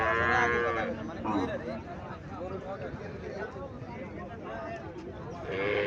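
A dairy cow, native or Haryana breed, lows at a cattle market in Cumilla. Drawn-out moos rise over busy crowd murmur and nearby voices.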